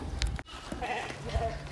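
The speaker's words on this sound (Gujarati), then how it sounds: "આ રહ્યું આ ઘેટું છે" A sheep with a broken leg bleats twice in short, close calls at an animal shelter, with a brief clatter between the calls.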